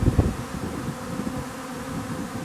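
A swarm of honeybees pours out of hives at an apiary, producing a dense, low droning buzz that stays continuous and fairly close throughout, with no voices.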